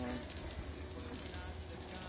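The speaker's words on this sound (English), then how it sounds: "Listen to the crickets." Steady, shrill cricket chirping fills the air without pause, with a faint murmur of voices in the background.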